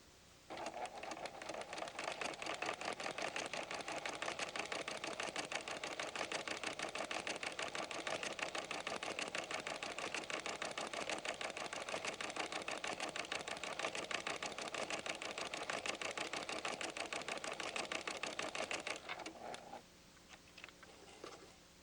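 A PFAFF creative 7550 sewing machine gathers and sews ruffles onto fabric, running in one long continuous fast whirring burst for nearly twenty seconds before abruptly stopping, leaving a brief quieter tail.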